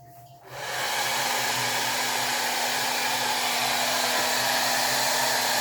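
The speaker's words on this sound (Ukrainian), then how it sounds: "працює фен на першій швидкості" A hair dryer powered from an inverter switches on at its first speed, ramping up within a second to a steady, loud whooshing roar with a constant motor hum underneath.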